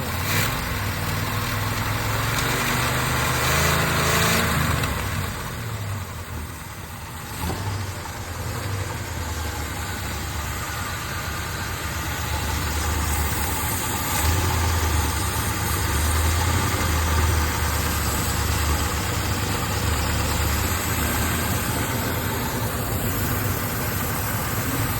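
A 1968 Chevrolet Impala convertible engine idles loudly and close by, with a vacuum line come undone. The steady, slightly rough rumble runs throughout with no talk.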